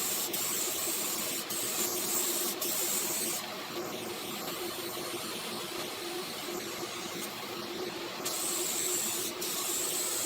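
A steady, close hiss of a spray gun applying a heavy coat of polyester sealer onto wood, continuous for about ten seconds with brief shifts in pressure and no talking.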